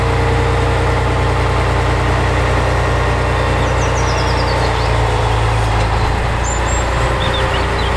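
A tow truck engine running at idle, a loud, continuous low rumble and vibration that stays steady from start to finish.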